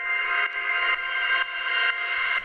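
Looped hardware synth chord for a tech house track, a bright sustained chord that retriggers about every half second in steady repeats as a knob shifts its voicing, with no talking.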